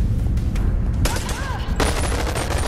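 Rapid gunfire from a weapon in the VR game BoneLab, a burst of repeated loud shots under continuous game noise with faint voices.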